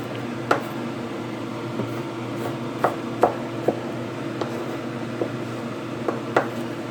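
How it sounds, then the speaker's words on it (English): A knife chops an onion on a cutting board in irregular, sharp taps, about a dozen over several seconds, against a low steady background hum. "now that we've got our onion all mostly chopped and diced."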